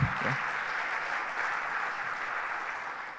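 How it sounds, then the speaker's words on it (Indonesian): An audience claps steadily, a dense wash of applause from many hands that holds throughout and eases slightly at the end. "Tepuk tangan dulu untuk Pak Yudi dan teman-teman."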